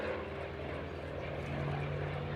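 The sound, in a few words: Hawker Fury aircraft engine at an airshow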